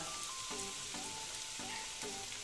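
Ginger garlic paste sizzles in oil in a pan for an egg and spinach curry, a steady close frying hiss with a faint repeated tonal squeak from stirring.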